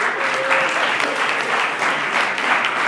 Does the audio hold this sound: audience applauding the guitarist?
yes